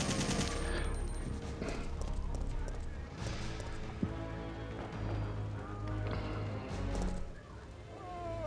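Gunfire in the video game Resident Evil 3: Nemesis, a dense stretch of repeated shots and sharp impacts over rumbling game noise, with a rapid burst and scattered single cracks.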